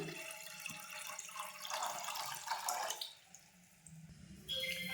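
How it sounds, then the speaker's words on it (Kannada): Water runs from a tap into a cooking pot on a stove as a base for sugar syrup for gulab jamun, a steady splashing stream that shifts pitch as the pot fills, then stops near the end. "Water add ಮಾಡ್ಕೊಳ್ಳುವ."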